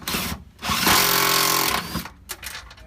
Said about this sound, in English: Let me break the head right off the screw.